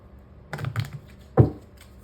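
A deck of playing cards being shuffled, with two short crisp riffling bursts close up in a quiet room, the second sharper and louder.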